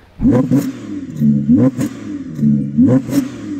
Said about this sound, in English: this is what the Audi R8 sounds like